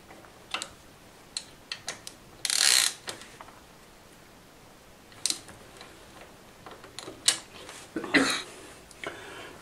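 Screws are tightened on a moped ignition stator, producing small scattered clicks and ratcheting ticks with brief scraping bursts, all fairly faint against a quiet background.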